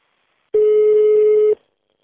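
A phone call rings out with a single steady telephone tone lasting about a second, clean and alone against silence.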